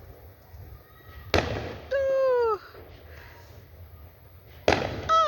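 Fireworks exploding over houses, two sharp booming blasts a few seconds apart, each followed by whistling, crackling streaks; loud and fairly close, with a brief spoken word between them.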